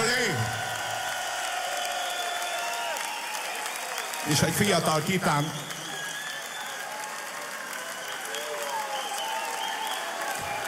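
Audience applause at a Hungarian rock concert celebrating a singer's 60th birthday as band members are introduced, crowd clapping under amplified stage noise and a voice talking over it.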